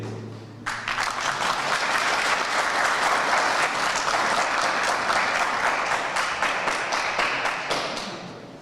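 Audience at an AK Party Çameli district iftar gathering breaking into loud, sustained applause, dense rapid clapping that starts abruptly and fades slowly near the end.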